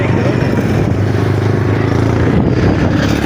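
A motorcycle engine runs steadily on a dusty Gole Bazar road in Kharagpur, a loud, continuous rumble with clattery rattling throughout and no clear rev peaks.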